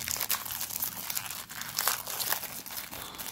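A Pokémon card booster pack being torn open, with continuous close crinkling and crackling foil wrapper sounds and short tearing bursts, quiet and without voices.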